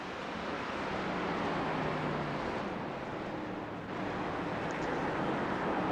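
Race car engines in an RWRS Xfinity Showdown Series racing video game round at Sonoma, a Toyota and a Chevy, roar in a steady, dense, continuous drone with a brief dip midway, loud and up close with no talking.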